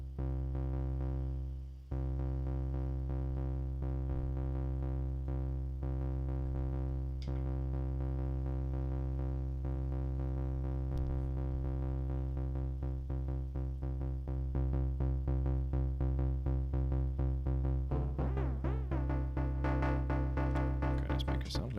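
A Faderpunk envelope in trigger-to-gate mode is fired in a rhythm over a sustained synth drone, with repeated pulses that grow denser and brighter toward the end.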